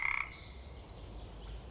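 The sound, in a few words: frog croaking sound effect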